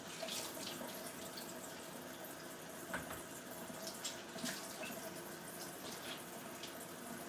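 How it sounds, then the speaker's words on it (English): A tap runs steadily into a sink as hands are washed before cooking shrimp, lentils, chickpeas and mixed vegetables, a continuous close water rush with small splashes and no talking. "I'm gonna go ahead and wash my hands before we get started."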